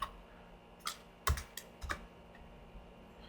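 Someone types a short command at a computer keyboard, setting up a firewall on an Ubuntu server. A few sparse, close key clicks land in an irregular rhythm over a quiet background.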